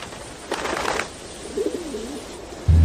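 Domestic pigeons coo softly in a couple of short, low bursts, with a faint flutter of wings in between; the calls sound fairly close and stand alone without talk.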